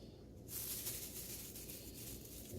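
Salt sprinkled over a rack of raw pork ribs, a soft, faint, steady granular hiss that swells after a brief quieter start and continues evenly to the end, with no talking.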